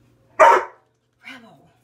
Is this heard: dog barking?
yes